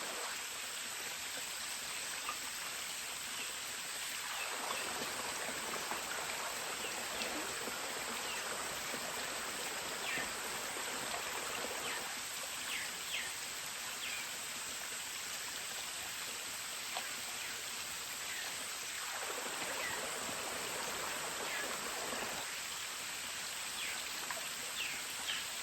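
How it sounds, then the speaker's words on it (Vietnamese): Rain falls in the Vietnamese countryside as a constant wash of drops, with close patter and a broad hiss holding steady throughout, a few faint birds behind. "Mưa tới rồi đấy."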